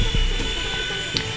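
An Air Hogs Jackal RC micro helicopter flies in a very small indoor room, its tiny rotor and motor making a steady high whine with a soft whirring hum.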